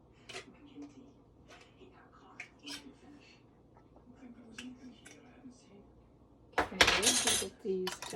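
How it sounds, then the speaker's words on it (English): Metal lids set onto glass canning jars of French onion soup, light clinks and taps scattered across the clip, ending in a louder clattering rattle, with a quiet voice in the background. "And then let's put our lids on it."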